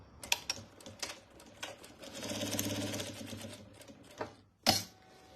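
A sewing machine stitches a quilted fabric basket in short bursts, with a brief steady whir in the middle and sharp mechanical clicks and knocks scattered around it, all close and fairly quiet.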